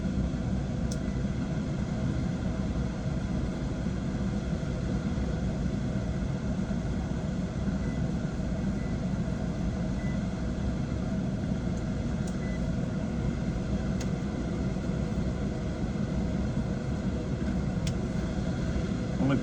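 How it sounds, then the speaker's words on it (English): A residential HVAC blower runs steadily with the heat strips off, giving a continuous low rumbling whoosh that holds level throughout with no breaks. "Blower is running."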